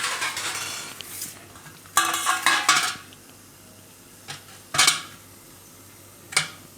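A knife chops boiled potatoes into medium pieces on a board, with three or four separate bursts of cutting and clinking against the surface between quiet gaps, and no one talking.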